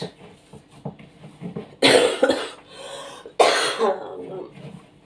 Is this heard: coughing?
yes